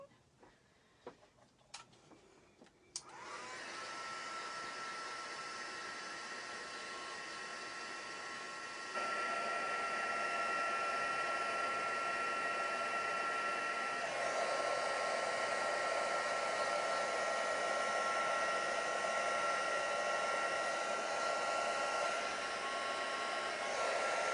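An embossing heat tool blows hot air in a steady, loud whirring roar for about twenty seconds, stepping up in intensity partway through, after a few light clicks.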